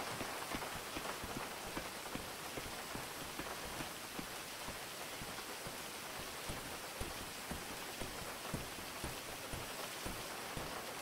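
Steady rain falling in the GTA RP video game, a constant hiss of dense drops pattering on surfaces, even and moderately loud throughout with no voices.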